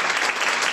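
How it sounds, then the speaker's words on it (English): A short burst of audience applause at the close of a live astronomy show, continuous and fairly close, with no gaps across the brief moment. "So we'll have a last round of applause."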